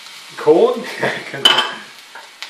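Eggs and corn go into rice frying in a pan, a soft sizzle broken by a few clattering scrapes and knocks of a utensil against the pan.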